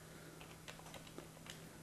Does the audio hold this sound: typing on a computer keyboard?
yes